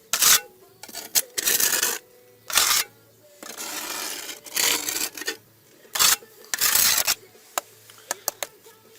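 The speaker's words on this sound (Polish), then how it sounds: "kleju zabieram szpachelką" Repeated scraping strokes of a spatula removing excess tile adhesive from granite mosaic tiles, rough rasping passes with short gaps between them, close and fairly loud.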